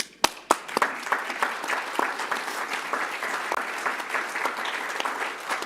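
Audience at a political gathering applauding organizer Bill McKibben: a few sharp, close claps at the start, then dense, steady crowd applause.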